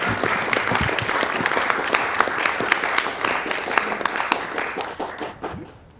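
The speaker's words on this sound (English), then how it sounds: "Let's hear a round of applause." A live audience at a charity speedrun gaming event breaks into sustained applause, dense overlapping claps that stay loud for several seconds before tapering off at the end.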